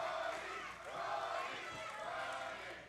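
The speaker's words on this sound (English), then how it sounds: "This crowd trying to cheer him on, trying to give him the last little bit of energy." Wrestling crowd at an OVW event cheering and shouting to urge on a wrestler in pain, a broad sustained roar of many voices with swelling waves, steady and fairly loud throughout.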